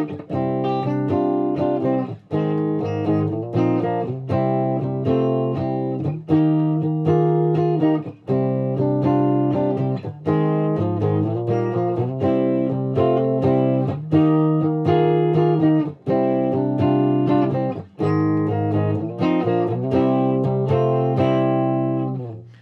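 A guitar plays a chord progression using sus add nine chord shapes, strummed chords changing at a steady pace over a sustained full band sound, loud and continuous with no talking.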